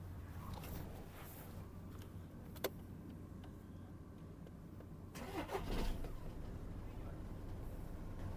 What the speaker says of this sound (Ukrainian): Зараз заведемо авто.